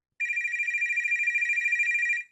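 A telephone rings with a steady electronic trill, one continuous burst of about two seconds, clear and close, starting abruptly and cutting off cleanly, with no voices.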